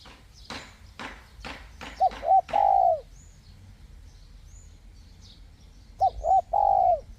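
A decoy dove calls during bird trapping, giving two clear bursts of rolling coos a few seconds apart after a run of sharp clicks, close and distinct over a quiet outdoor background.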